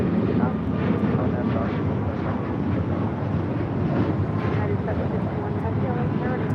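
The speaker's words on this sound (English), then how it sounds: "This is Southwest 450 taking off to Denver, Colorado on a MAX 8." A Southwest Boeing 737 MAX 8 departs LAX as a steady, broadband jet roar that holds loud and even throughout, with some wind buffeting and faint voices underneath.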